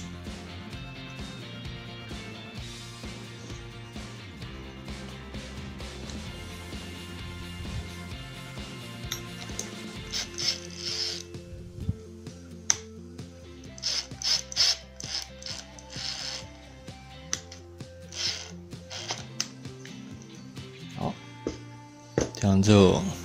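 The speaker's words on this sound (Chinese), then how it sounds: "我们用刚才的起子机来锁。" A Bosch electric screwdriver from a four-piece Bosch tool set drives screws during assembly, giving ratcheting mechanical whirs and clicks in short bursts under steady background music.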